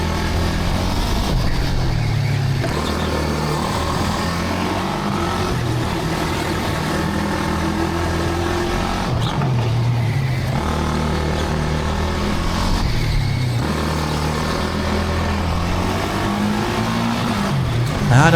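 A 15 hp indoor shifter kart with a six-speed gearbox runs continuously nearby, its engine droning and revving steadily with shifts and throttle changes throughout, loud and alone with no talk.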